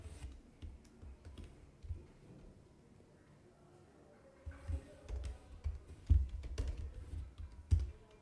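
Soft, quiet key taps and clicks of a computer keyboard, typed in short uneven runs. A low rumble sits under them, with a few louder knocks near the end.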